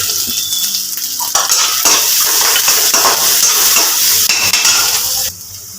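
Grated ginger, garlic and chili fry in hot oil with onion, a loud continuous sizzle broken by scraping and clinking of a spoon stirring the pan, which drops off abruptly near the end, no talking.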